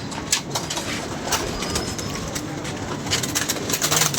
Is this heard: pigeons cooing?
yes